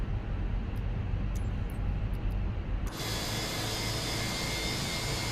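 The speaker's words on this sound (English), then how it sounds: "Make sure this engine's actually turning on." An airliner's jet engine runs steadily during pushback, a broad continuous roar heard from inside the cabin with a few faint clicks, swelling into a brighter, louder whine partway through.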